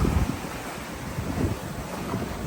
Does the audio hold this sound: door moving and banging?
no